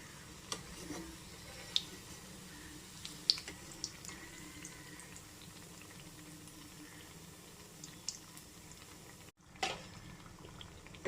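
Snacks deep-frying in hot oil give a steady close bubbling hiss with scattered small pops and ticks, briefly cutting out near the end before resuming.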